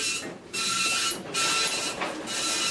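A printer runs in bursts as part of an art-making machine, a loud mechanical whir and clatter that stops briefly, then resumes, with no voices.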